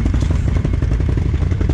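A Can-Am four-wheeler ATV engine runs close by, a loud, even low rumble with a rapid pulsing beat and no pauses.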